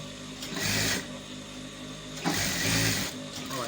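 A sewing machine stitches the back yoke of a school uniform in two steady runs of mechanical whirring, separated by a brief pause, close and fairly loud throughout.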